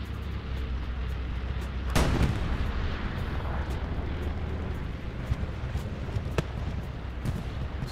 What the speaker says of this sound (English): That is Chimera bombing run.